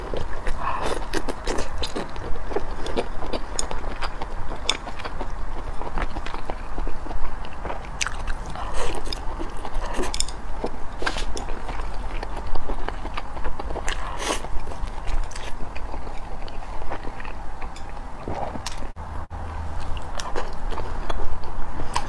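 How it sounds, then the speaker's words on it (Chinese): Someone eats chicken giblets at close range, with continuous wet chewing, squishy bites and occasional crunches over a low room background. "今天吃鸡杂"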